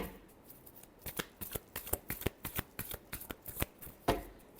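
Tarot cards being shuffled by hand: a rapid run of sharp papery riffles and flicks, close and fairly quiet, with no talk, ending on one louder slap of the deck.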